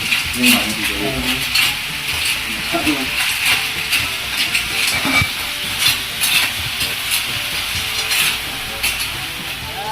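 Green shell mussels cook in a hot pan with a continuous close sizzle, punctuated by scraping and clinking of a metal utensil against the cookware.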